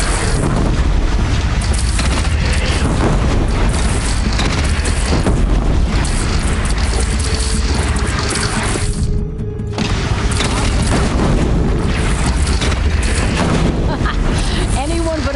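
A single cannon pounds away during a battle with a bandit clan in the game Horizon, producing deep, dense booming blasts over a continuous roar of loud combat noise, with voices talking amid the din.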